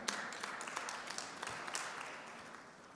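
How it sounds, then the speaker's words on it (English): Audience applause for a panel at a BRICS business engagement event, a fairly faint, even patter of many hands that thins slightly toward the end. "Please give a round of applause to our panel."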